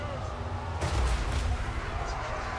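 An expensive artillery piece fires in the battle strategy game Total War: Warhammer 3, a sudden heavy boom that rumbles and fades under ongoing battle noise.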